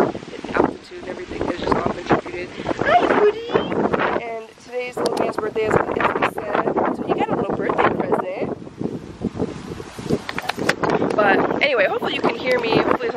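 Gusty wind buffeting the microphone, rumbling and rustling loudly beneath a person talking outdoors.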